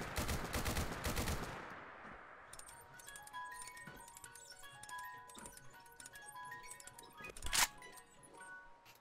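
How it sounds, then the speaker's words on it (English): An HK G11 mod weapon in a video game fires a short burst of gunfire. A tinkling Jack in the Box music-box tune then plays as the reload is wound, with a sharp metallic clack as the magazine ejects near the end. "it plays a nice little Jack in the Box song as you just wind this thing up and eventually it will eject the magazine up top"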